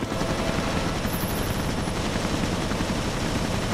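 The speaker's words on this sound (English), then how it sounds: "Minigun time" A minigun fires in Resident Evil Revelations, as a loud, continuous, rapid stream of gunfire that holds steady from start to finish with no breaks.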